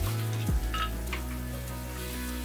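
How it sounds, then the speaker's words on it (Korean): White wine hits a hot pan and sizzles steadily while a spatula scrapes the stuck bits from the bottom, a close, continuous hiss with a brief scrape near the start. "화이트 와인을 넣고 디글레이징 해줍니다"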